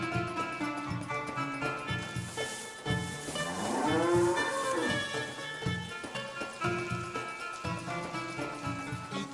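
A cow lows in one long, drawn-out moo that rises and falls, loud and close, over a busy backdrop of music and general noise.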